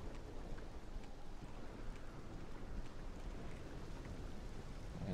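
Steady rain falling in the video game Morrowind, a soft continuous hiss of drops with a faint wind-like wash, even and unbroken throughout, no one talking.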